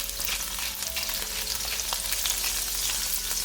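Tofu sizzles in hot oil in a wok, a loud, dense, continuous crackling hiss with small pops and occasional stirring scrapes.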